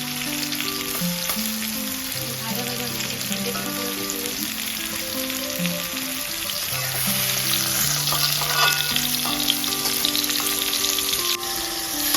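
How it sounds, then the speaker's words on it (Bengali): Potatoes frying with a little salt in hot oil in a wok crackle and sizzle steadily, growing busier toward the end, with background music playing throughout. "আমি প্রথমে আলু ভেজে নিচ্ছি সামান্য একটু নুন দিয়ে আলুটা ভাজবো আমি"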